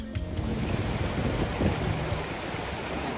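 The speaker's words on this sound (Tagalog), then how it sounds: "Amo sini kakusog ang current sang tubig sa suba" Strong floodwater current of the Binalbagan River rushing in a continuous broadband roar, steady and fairly loud, with no voices over it.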